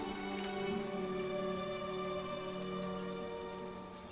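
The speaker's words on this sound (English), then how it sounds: "a zealous priest is standing out in the pouring rain" Steady pouring rain ambience in the Crusader Kings III strategy game, a dense continuous patter of raindrops over a layered, droning musical backdrop, with no voices.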